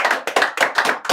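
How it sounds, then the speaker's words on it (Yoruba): Applause from a studio audience on a Yoruba-language quiz show, several loud bursts of hand claps in quick succession with short pauses between, close and clear with no talking. "ẹ ṣé gan ni ẹ bá mi pàtẹ́wọ́"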